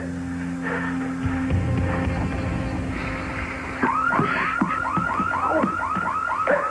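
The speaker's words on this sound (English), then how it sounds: "Star, did you set off the alarm accidentally?" An alarm going off indoors in a soap-opera household, repeating as a rapid series of warbling electronic chirps that grows louder partway through, steady and fairly close.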